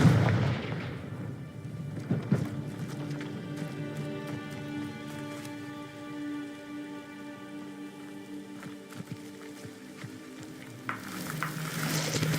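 A Confringo blasting spell bursts in a Hogwarts video game with a heavy opening blast, then a crackling, fizzing burn of fire and debris that trails off, before another burst near the end.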